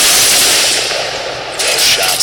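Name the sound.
minigun gunfire in the video game Fortnite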